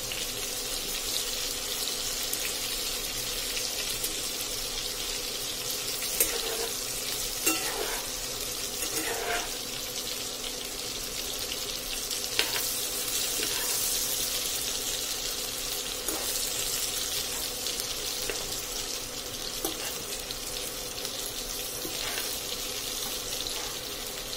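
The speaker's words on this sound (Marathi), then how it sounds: "आता आपण झाकण उघडून ते छान उलटवून घेणार आहे." Cut pieces frying in a pan with the lid lifted off and the pieces turned over, giving a steady close hissing sizzle throughout, broken by a few soft clicks and scrapes of turning.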